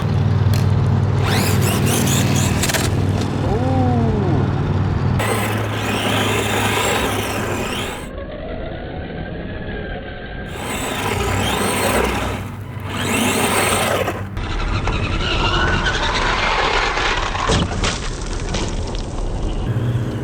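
Small electric Arrma Gorgon RC truck on a 2S LiPo whining and buzzing as it speeds around, pitch rising and falling with bursts of acceleration, nearby and fairly loud.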